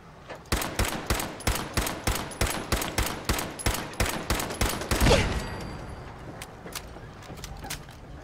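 Rapid, evenly spaced gunshots fire in a long burst at mannequins in Fallout 4, loud and close, then a final heavier blast and trailing echoes fading into quieter ambience.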